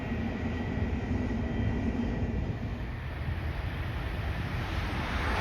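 A passenger train rushes through Bletchley railway station, a steady loud rumble and rail roar filling the whole stretch, with wind buffeting the microphone.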